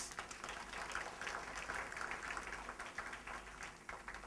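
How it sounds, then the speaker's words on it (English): A Toastmasters audience at a district speech evaluation event gives a sustained round of applause, a soft, dense patter of many hands heard from a distance, with no voices over it. "let's give her a big round of applause."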